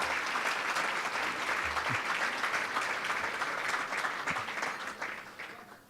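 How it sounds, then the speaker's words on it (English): A round of applause for local elected officials in a hall, even continuous clapping from a moderate crowd that holds steady and then fades out toward the end. "why don't you stand and we can give you a round of applause and a thank you for all you do"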